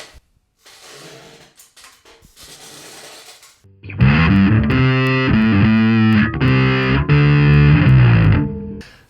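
Bass guitar run through a distortion drive block on a Line 6 Helix, loud and fuzzy sustained notes and chords, preceded by a few seconds of quieter, thin playing.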